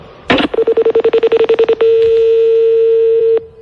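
A telephone is dialed: a short rustle, then a quick run of about fifteen rhythmic tone pulses followed by a steady ringing tone that stops abruptly, loud and close.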